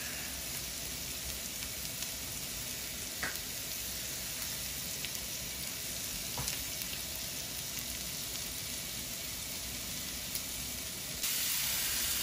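Ribeye steaks fry in a pan with a steady, close sizzle that runs the whole time, a few brief pops breaking through, and the hiss grows slightly louder near the end.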